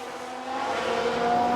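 Engine of a Formula One car in F1 Manager 2022 holds a steady high whine that rises slightly as the car spins out, a single continuous buzzing tone with no voices.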